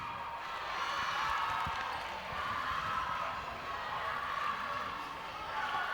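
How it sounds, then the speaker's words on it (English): Crowd noise rises and falls at a South Africa–Australia rugby match in Botswana, a broad, distant murmur of a sizable stadium audience with a commentator talking over it. "the crowd certainly gaining some momentum. So the noise is getting louder"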